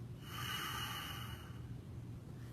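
A slow natural exhale through the nose during breathing meditation, a soft airy rush lasting over a second before fading into quiet room tone.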